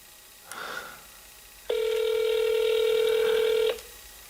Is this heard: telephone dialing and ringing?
yes